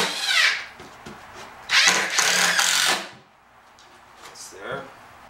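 A power drill drives about four screws to tie down a board while a large 85-gallon electric water heater goes in, with two or three whirring bursts standing out close and loud among short pauses and handling noise.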